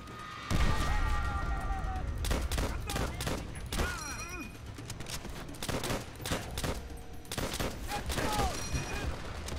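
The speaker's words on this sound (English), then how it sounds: "Nice machine guns!" Machine gun fire and scattered shots in the World War II shooter Call of Duty: World at War, with dense, sustained bursts close by, mixed with crashes and shouted talking throughout.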